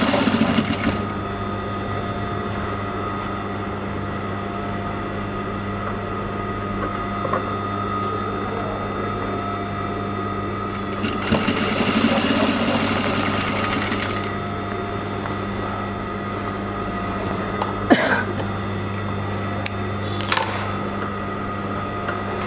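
A sewing machine stitches the seam of a basic skirt, a steady close mechanical whirr running almost throughout, with a brief louder burst midway and a couple of sharp clicks near the end.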